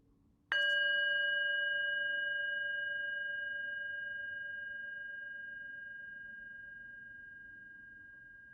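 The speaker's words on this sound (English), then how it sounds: "As I end this talk and ring the bell, let's listen" A single meditation bell is struck once at the close of a dharma talk, its clear metallic ring sustaining and slowly fading over about eight seconds in an otherwise quiet room.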